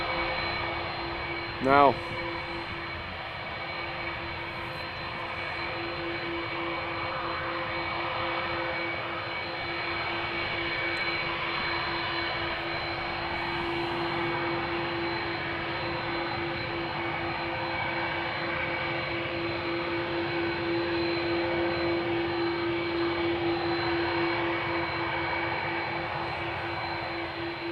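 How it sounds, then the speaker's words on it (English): Embraer 190 jet engines idling on the runway threshold at Amsterdam Schiphol, a steady whine with a sustained tonal hum throughout, fairly near and continuous, with a brief spoken word and a short sharp sound near the start. "there's an Embraer 190 to Palma de Mallorca on the threshold of center"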